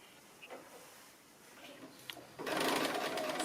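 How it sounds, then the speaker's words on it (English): A sewing machine stitches down the binding around the last corner of a quilt-as-you-go quilt. Faint intermittent ticking gives way to a loud, steady whirring run of stitching in the final second. "I'm just coming around the last corner of the binding. I thought you'd like to see the last little bit going on. So I'm machining it down"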